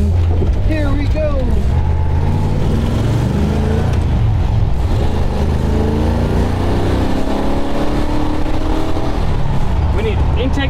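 A 1969 Dodge Charger out on a drive, its engine droning loudly and steadily throughout with a rough rumble and some wind and road noise, close up from inside.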